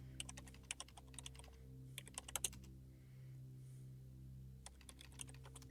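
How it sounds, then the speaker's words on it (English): Keyboard keys clatter in the horror video game Stories Untold, arriving in quick bursts of clicks with short pauses, set over a steady low electronic hum. "it gives me the typing sound even though I can't type"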